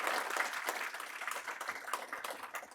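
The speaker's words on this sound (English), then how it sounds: "We give them a quick round of applause." An audience applauds panelists at the close of a returning volunteer teachers panel: steady, moderately loud clapping that fills the short stretch with no talk over it.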